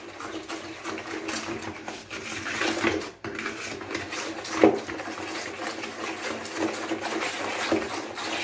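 Eggs and sugar being mixed in a bowl, a steady close scraping and tapping of a utensil against the bowl with a few sharper clinks, no one talking.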